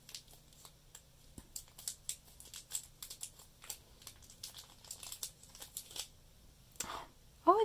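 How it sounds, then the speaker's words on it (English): Scissors snip through packaging on a boxed figure, producing close, irregular cuts and crinkling plastic rustles spread across the clip, ending in a brief louder rattle. "let's use some scissors to get everything else out."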